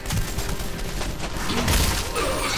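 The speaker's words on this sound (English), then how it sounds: "You and your armor won't stand a chance against uh, my assault rifle" Assault rifle fire in Red Faction Armageddon, a dense, loud, continuous barrage of rapid shots over heavy rumbling game noise.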